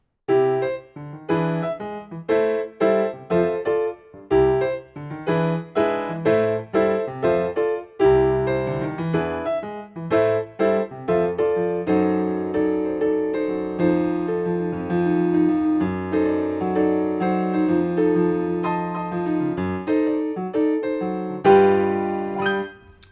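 Solo piano plays a lively passage with a steady stream of chords and melody notes, close and fairly loud, without any voices.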